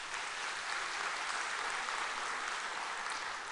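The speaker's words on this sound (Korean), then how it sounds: "우리 박수로 한번 격려하겠습니다" A church congregation applauds the standing choir, a steady, dense wash of clapping hands that holds evenly from start to finish with no voices over it.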